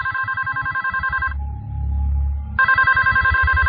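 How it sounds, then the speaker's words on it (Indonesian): A hotel room telephone in Bali rings in two loud, close bursts of repeated electronic trills, separated by a short pause filled with low room rumble. "telepon itu berbunyi lagi."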